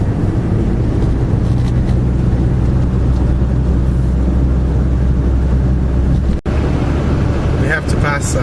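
A car cruising along a highway in Malaysia between Puchong and Cyberjaya, giving a steady, loud low rumble of road and engine noise with wind buffeting, continuous throughout with a brief dropout near the end.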